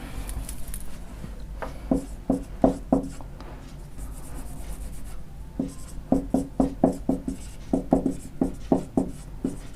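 Chalk or marker tapping and scraping on a board during a maths lesson on counting trailing zeros, in quick rhythmic groups of sharp strokes separated by short pauses, close and loud.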